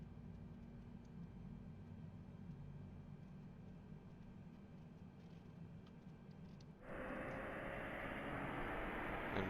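Airbus A321-200 engines spool up in a flight simulator: a faint steady hum and hiss, then a sudden loud broadband roar that kicks in about two-thirds through and holds steady.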